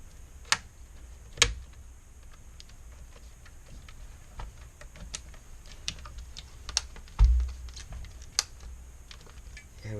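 An LED backlight part for an LTM213U6-L01 panel gets snapped back into place, producing scattered sharp plastic clicks and taps, close and fairly quiet, spaced irregularly with a louder snap near the end.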